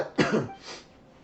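A single harsh cough from a character in Genshin Impact, close and loud, trailing off into a brief throat-clearing rasp.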